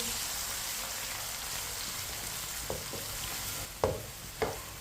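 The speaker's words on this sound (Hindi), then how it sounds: "चॉप किए हुए प्याज डाल लेंगे। मिक्स कर लेंगे।" Chopped onions frying in a pan for an egg curry, a steady hissing sizzle throughout with a few distinct spoon knocks and scrapes toward the end, close and soft.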